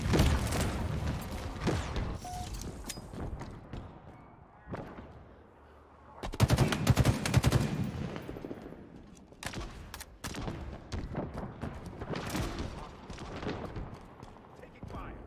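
Gunfire from Halo Infinite multiplayer, with bursts of shots in several loud clusters and a sustained spell of rapid fire mixed with other game effects and some speech.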